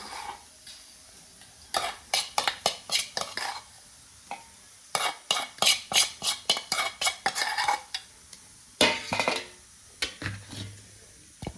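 A spoon stirs and scrapes a potato vada masala mixture in a pan, making repeated rhythmic clattering strokes in several bursts with short pauses between them. The sound is close and fairly loud, and no one speaks.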